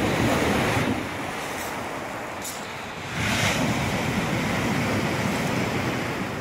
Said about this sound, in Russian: И вот море и пляж Пицунды,